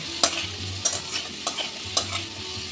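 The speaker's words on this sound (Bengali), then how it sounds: "আদা কাঁচা লঙ্কাটা দিয়ে অল্প একটু ভেজে নিয়েছি" Coarse ginger and green chilli paste frying in a pan, heard up close as four distinct spatula strokes scraping across the pan at a steady pace over a continuous soft sizzle, with no voices.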